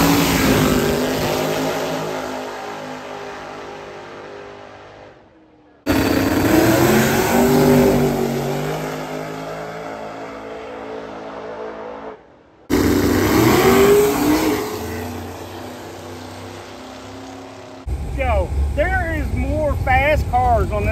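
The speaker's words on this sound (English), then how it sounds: "all we know is there's some fast cars here" Fast race cars at Skelton Raceway roar past in loud bursts, engines revving hard across several passes with brief gaps between, followed by a different higher whining engine at the end; voices blend faintly into the din.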